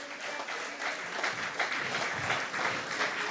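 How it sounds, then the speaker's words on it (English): Sustained applause from a convention audience at the PAM 53rd Convention, a dense, steady wash of many hands clapping at full volume throughout, with no voices standing out. "Vance Emery needs a rapturous round of applause"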